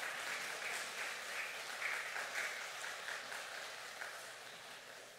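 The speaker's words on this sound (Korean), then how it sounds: "이 시간 나오실 때 우리 할렐루야로 박수로 환영하겠습니다." A congregation at a Korean church's Sunday morning worship claps to welcome a pastor to the pulpit, even, continuous applause from many people, heard at moderate distance and fairly soft, with no talk over it.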